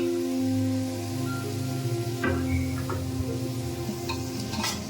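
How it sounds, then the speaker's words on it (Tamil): Onions and tomatoes sautéing in a pan make a low, gentle sizzle over a steady background hum, with a few light clinks of a spoon against the pan. "இப்போ தான் போட்டிருக்கேன், வதங்கிட்டுருக்குது."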